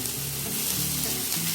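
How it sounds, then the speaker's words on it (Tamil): Chopped tomato sautéing with onion in a hot pan, a steady close sizzle running without a break. "இதை வதக்கிக்கலாம். நல்லா தக்காளி வதங்கணும்."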